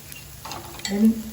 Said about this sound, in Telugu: కొద్దిసేపు కలిపి ఇట్లా వదిలేసేయండి.